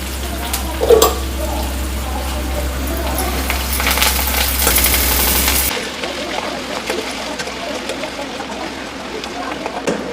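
Onion sautés in a pan for biryani, a continuous close sizzle with scraping stirs and pan clatter, over a loud steady low hum that cuts out partway through.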